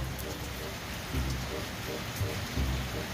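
Heavy rain pours down in a dense, steady hiss, with occasional low thuds rising and fading beneath the downpour.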